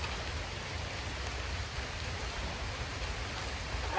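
Steady rain falling on a dark, cloudy afternoon around a poultry run, a continuous even hiss of drops with no pauses, close and fairly loud.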